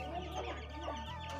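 A desi chicken clucking close by, a short run of low, throaty clucks with a bird call rising over it, and no talking.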